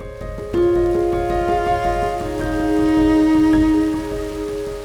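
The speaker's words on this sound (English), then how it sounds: "Today, we've got rain on and off." Rain falls in Patagonia, Chile, a soft patter on surfaces heard beneath sustained tonal music-like hum, fairly close and steady.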